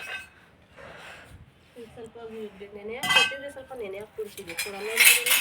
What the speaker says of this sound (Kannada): ಇವಾಗ ಬಂದಿರುವುದು ದೇವ್ರ ಪಾತ್ರೆ ತೊಳೆಯೋಕ್ಕೆ